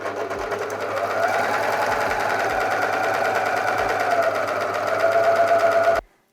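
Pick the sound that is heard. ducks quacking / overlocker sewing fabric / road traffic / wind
overlocker sewing fabric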